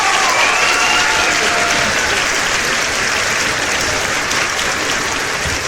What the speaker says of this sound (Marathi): त्या जोरदार टाळ्या होऊन जाऊ दे.